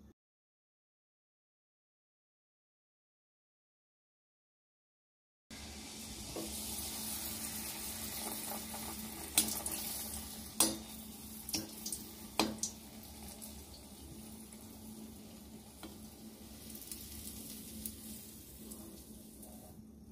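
Jaggery pitha batter hits hot oil after several seconds of silence, then fries with a steady close sizzle and occasional louder pops and crackles.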